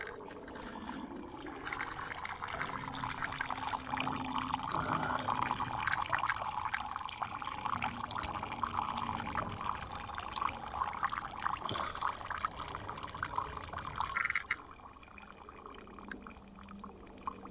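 Water pours and trickles steadily through a Milbank bag water filter outdoors, a continuous close splashing stream that eases off near the end.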